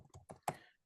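Keys on a computer keyboard clack in a quick, quiet burst of four or five taps, the last one sharper, with no voices over them.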